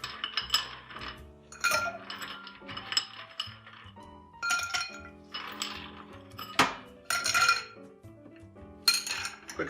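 Ice cubes clink and rattle against glass as a sweet-vermouth cocktail is stirred, a series of bright, close, irregular clinks with quiet gaps between them and no talking.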